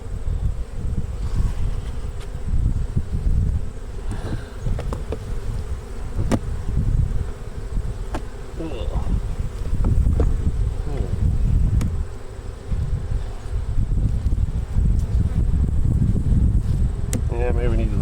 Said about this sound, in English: Get the bees nice and riled up,